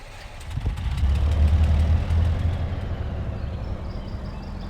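Heavy truck engine idling in the off-road driving game MudRunner, a deep, steady low rumble that swells slightly and then settles, alone and fairly loud.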